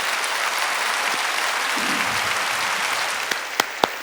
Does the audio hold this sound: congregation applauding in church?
yes